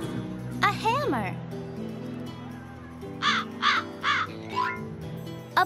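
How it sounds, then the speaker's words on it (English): A black crow in the PC game I Spy: Fun House caws four times in quick succession, loud and close, shortly after a brief spoken voice. "A black crow."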